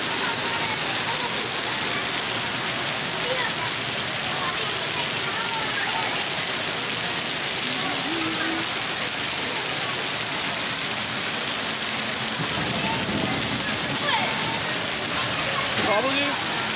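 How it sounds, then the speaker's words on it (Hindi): Steady, dense rain hisses evenly throughout, with faint indistinct voices now and then beneath the continuous patter. "ये बारिश का ठंडा ठंडा पानी है।"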